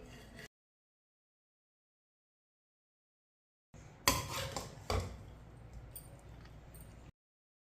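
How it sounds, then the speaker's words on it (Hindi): A serving spoon clatters and scrapes against a plate as cooked salted mutton (namkeen gosht) is served, with a cluster of sharp metallic clinks and knocks after a long quiet gap, close by. "अब इसे प्लेट में डाल लेंगे।"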